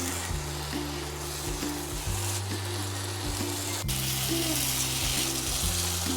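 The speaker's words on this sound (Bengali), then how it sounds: "মাছটাকে ভালো করে কষাবো 10 মিনিট, আর নাড়াতে হবে।" Fish with lemon leaves being sautéed in a pan, a steady loud frying hiss with occasional stirring scrapes and a hum that shifts in pitch, continuous and close with no speech.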